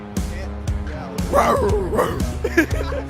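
Sports fans at a Carolina Panthers event imitate a panther growl, but their voices sound more like barking dogs, with several short loud yelps and growls overlapping near the microphone.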